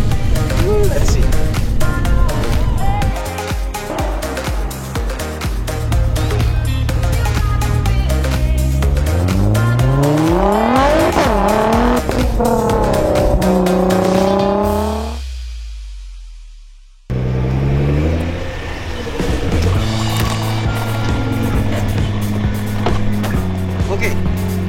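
A UK-version Nissan GT-R accelerates hard, its engine note climbing through rising sweeps between gear changes, then dropping out briefly before pulling again, loud and close with a person talking over the engine and road noise.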